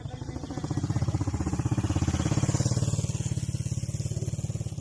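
A motorcycle engine runs steadily and close while the bike is ridden, with a continuous throbbing pulse that rises slightly midway and holds through to the end.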